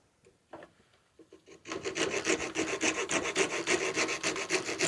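A rasp and files work wood for a small puzzle mosaic piece: a few light scrapes, then a brisk run of rhythmic back-and-forth filing strokes, close and clear with no talking.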